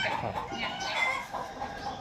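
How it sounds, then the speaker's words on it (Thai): A flock of Khao Hin Sorn breed chickens clucks continuously at close range, a dense, busy layer of overlapping calls with no speech. "รับไก่พันธุ์เขาหินซ้อนนะครับ"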